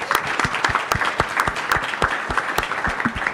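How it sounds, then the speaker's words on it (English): An audience at the Aspen Security Forum applauds in a steady, dense wash of clapping, with a few louder individual claps standing out near the recorder. "just a round of applause for the Aspen Security Forum people"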